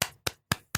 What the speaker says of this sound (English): Clap it up for Bobby Brown.